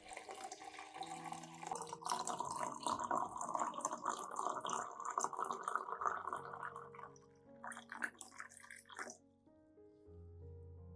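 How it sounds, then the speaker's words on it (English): Warm water pours and splashes into a glass cup for several seconds, faint and close, with the fill sound shifting before trailing off. "Then I add about 500 milliliters of warm water."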